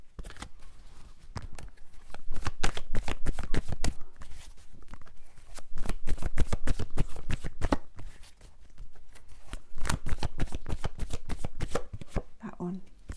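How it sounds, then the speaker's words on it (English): Tarot cards being shuffled by hand, a dense run of rapid riffling and sliding bursts in several waves, close and fairly loud, with a short pause near the end. "Probably patience with my shuffling"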